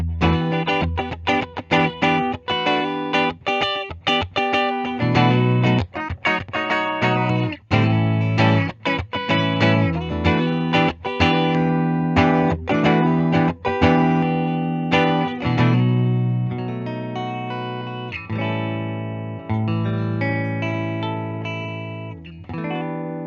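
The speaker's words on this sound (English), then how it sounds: "I think I have to favor the middle position on this guitar. It's nice and quacky." A 2010 Gibson Jonas Brothers Signature electric guitar on its middle pickup position, with a bright, nasal, quacky tone, plays chords and picked notes steadily, close and fairly loud, with a touch of effects.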